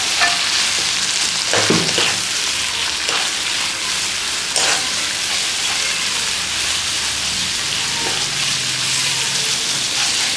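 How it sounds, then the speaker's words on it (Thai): Red curry paste stir-fried in a wok for spicy pork-head stir-fry, a loud, continuous close sizzle broken by a few scraping stirs of the spatula. "ผัดสักครู่ให้พริกแกงหอมเนาะ"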